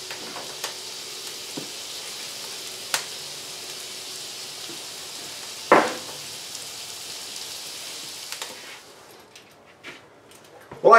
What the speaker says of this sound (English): I got this steak in here now just warming up with the vegetables